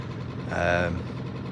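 A 6hp Suzuki outboard motor ticks over at idle on a Boatworld 295 Kaboat inflatable boat, a steady low, close engine hum with a brief brighter tonal swell midway.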